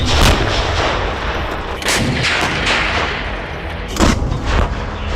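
Ukrainian army artillery fire from British M777 howitzers, heavy booms and rumbling blasts rolling through a constant loud roar, with a few sharper reports standing out, no voices.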